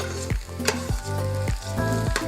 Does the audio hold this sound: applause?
no